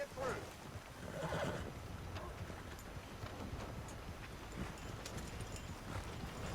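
Horse in the video game Red Dead Redemption 2, a neigh near the start followed by hoofbeats under a busy game ambience, moderately loud throughout.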